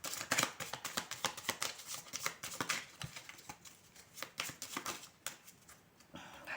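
Tarot cards shuffled and cut by hand, a close, busy stream of papery flicks and soft slaps in rapid uneven bursts that thin out near the end.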